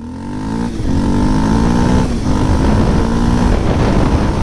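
A 200cc adventure motorcycle runs at speed during a 60 to 0 front brake test, its engine droning steadily and loud with a couple of brief dips in pitch as the rider shifts, amid wind noise.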